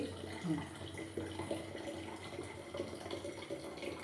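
Tap water runs steadily into empty water bottles in a home kitchen, a continuous close splashing rush with no talk.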